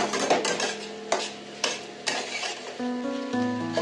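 Spiced masala being stirred and fried with potatoes and carrots in a pan, with repeated scraping stirs over a steady sizzle, close and clear, and no talking.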